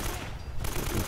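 Burst of automatic gunfire against enemies in the Uncharted: Drake's Fortune video game, a dense continuous rattle of shots that fills the short moment, loud and close.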